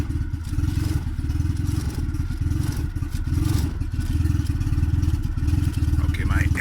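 An engine runs on a Speeduino standalone ECU during tuning, giving a loud, continuous, rough rhythmic chug with metallic clatter throughout.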